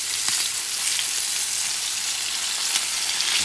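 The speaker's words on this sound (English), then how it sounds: "So I'm trying to get that side cooked too." London broil steak searing in a hot pan, a steady close crackling sizzle with faint pops, continuous and even throughout with no voices.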